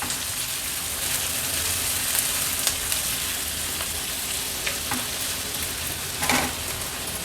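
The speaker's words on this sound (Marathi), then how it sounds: "कांदा तेलावर थोडासा परतून घेते।" Chopped onion and a green chilli frying in hot oil for a prawn curry, a close, continuous crackling sizzle with a few sharp spatula stirs and scrapes.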